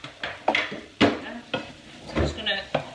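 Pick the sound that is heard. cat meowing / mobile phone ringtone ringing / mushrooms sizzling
mushrooms sizzling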